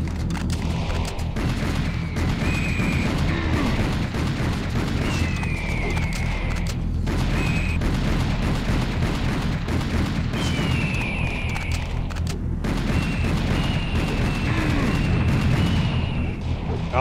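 Repeated pistol shots from Serious Sam HD: The First Encounter ring out over a dense, continuous bed of game combat noise and booms, with distant targets being picked off.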